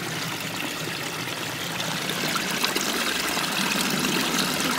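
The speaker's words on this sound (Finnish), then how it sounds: "Täältä kiemottelee puro, joka menee sitten tossa tonne isompaan." A small stream trickles beside a woodland path, a steady close babble of running water that holds constant throughout.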